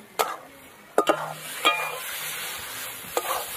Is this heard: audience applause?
no